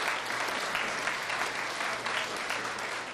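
Continuous, even applause from an audience at a middle school time capsule opening, honoring the school staff, a dense steady clapping throughout at moderate loudness.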